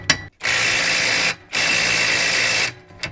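A GTM IS12/120BL 12-volt cordless impact driver with a 17 mm socket hammers at a rusty wheel nut with a lock washer, firing in two long rattling bursts after a short blip, close and loud.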